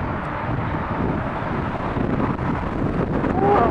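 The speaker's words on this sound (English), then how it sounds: "That was a gust. Gust of wind." Wind gusting against the microphone during an autumn city bike ride, a steady loud low rumble that swells toward the end, with no speech.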